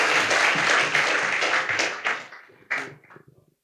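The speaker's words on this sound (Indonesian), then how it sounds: "Oke, berikan tepuk tangan sekali lagi." Applause from a congregation at a joint church service, a dense burst of clapping that fades out over a few seconds, ending with a few scattered claps.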